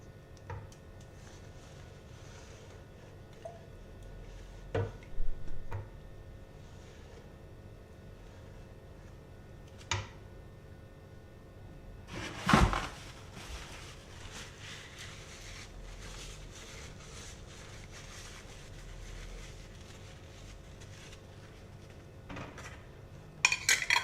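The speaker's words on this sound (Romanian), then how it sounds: "Punem gemul așa fierbinte în borcane" Hot plum jam is ladled into glass jars in a home kitchen, producing scattered clinks of glass and metal against a quiet background, with one louder clatter midway.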